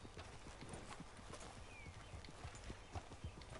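Horse hooves clip-clop steadily on the ground in the Red Dead Redemption 2 video game, a near, rhythmic walking gait over a soft outdoor ambience with no voices.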